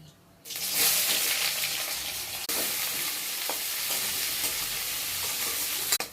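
Chopped onions hit hot oil already holding dried red chillies, whole garam masala and cumin, bursting into a loud, continuous close sizzle that keeps crackling steadily with stirring and a brief dip partway through.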